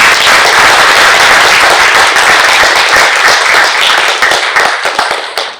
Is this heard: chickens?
no